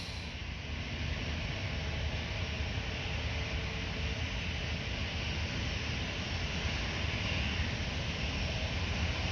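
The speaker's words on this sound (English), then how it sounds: "That is the Airbus A320 Air France." An Air France Airbus A320 jet at Orly airport in Paris gives off a loud, steady roaring engine noise that fills the whole clip without pause.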